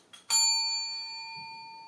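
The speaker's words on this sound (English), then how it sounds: "ring that little bell" A small bell is struck once, a bright clear ding that rings out and slowly fades, heard alone and close up.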